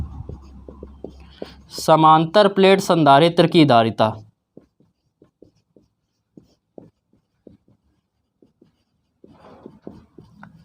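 Writing on a board during a Class 12 physics lecture on parallel plate capacitors: a short spoken phrase comes first, then sparse, faint taps and scratches of pen strokes follow at irregular intervals.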